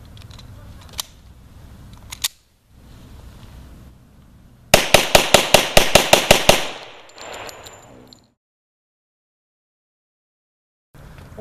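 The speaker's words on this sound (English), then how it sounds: "we're doing a simple function test demo with the 45 ACP RIP round from G2 Research through the SIG P227" SIG P227 pistol firing G2 Research .45 ACP RIP rounds: a rapid string of about ten loud, sharp shots in quick succession, with a few isolated clicks and handling noises before and brief metallic rattles after, then silence.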